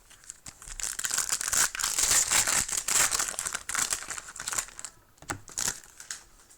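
Foil wrappers on Upper Deck Series 1 trading card packs crinkle and tear close up, a dense continuous rustle with sharper crackles, briefly pausing near the end before resuming.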